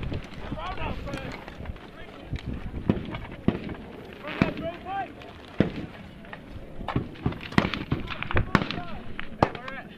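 Mortar rounds are fired in combat in Afghanistan, sharp booming reports at irregular intervals amid wind buffeting and shouted voices nearby.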